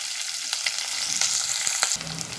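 Onion pieces fry in a pan for a horse gram (bobbarlu) pulao, a loud, dense, continuous sizzle with a few brief stirring clicks and no talking.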